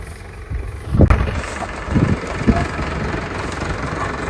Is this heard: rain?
no